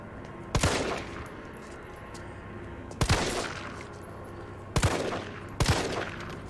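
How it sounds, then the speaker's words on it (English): Four separate loud gunshots in the video game Resident Evil 3, fired at uneven intervals against a steady low ambient drone. "Wonderful shooting."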